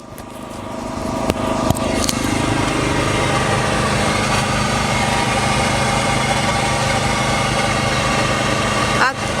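A generator runs steadily to power a propane water heater at an off-grid site, a constant loud engine drone with a dense, buzzy hum that holds evenly throughout.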